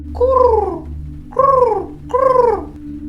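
A voice imitates a cat meowing three times, each a drawn-out, falling mew with short pauses between, over a steady low hum.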